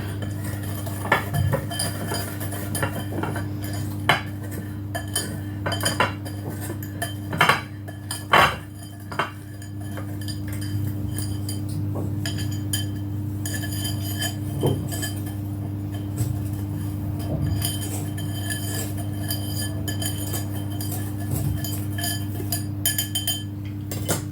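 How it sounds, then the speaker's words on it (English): A utensil clinks and scrapes against a bowl as coffee cake batter is stirred, irregular sharp taps and chinks over a steady low hum, close and fairly loud, continuing unevenly throughout. "And then I'll stir that up."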